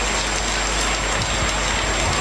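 A school audience taps fingers against palms at an arts fest closing ceremony, imitating rain as a dense, continuous patter that sounds just like a steady downpour.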